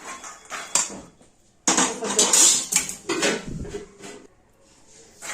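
Crisp roasted makhana (fox nuts) are tipped into a small container, giving bursts of light dry rattling and clattering in a few clusters separated by brief pauses, close by.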